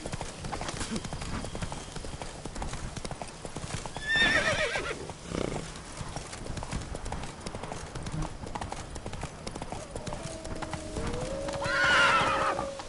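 Horse hooves clip-clop at a steady gallop in The Witcher 3: Blood and Wine, with two loud neighs breaking through around the middle and near the end, amid game ambience.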